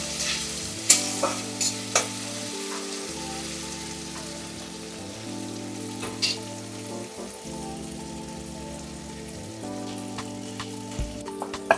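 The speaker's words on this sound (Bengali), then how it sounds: "কেটে রাখা পেঁয়াজ একটু টমেটো একটা কাঁচা লঙ্কা এটা ভালো করে নাড়াচাড়া হচ্ছে দেখুন" Onion, tomato and green chilli frying in mustard oil for a Bengali mutton curry, a continuous close sizzle with regular stirring scrapes and occasional sharp pops and clinks, no voices.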